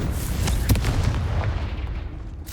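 Confringo spell in Hogwarts Legacy bursts as a series of booming, crackling explosions in quick succession, loud and close, fading toward the end.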